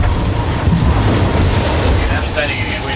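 Strong wind roars steadily across the microphone aboard a racing sailboat at sea, with a constant loud rush of gusts and water noise filling the whole stretch.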